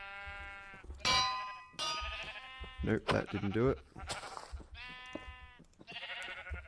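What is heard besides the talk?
Minecraft sheep bleating in a video game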